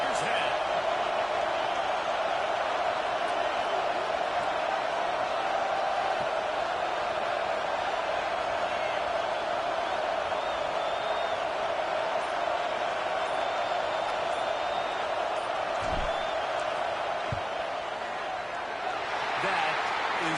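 A large college football stadium crowd at Penn State versus Washington roars steadily through a field goal attempt, a sustained, loud wash of cheering noise with a few faint thumps near the end.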